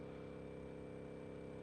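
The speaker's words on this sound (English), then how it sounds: "That's the lawnmower. So this is a Lawn Mower Pro right here." A Yarbo Lawn Mower Pro robotic mower runs with a quiet, steady electric hum and faint tonal whine, holding constant throughout with no voices.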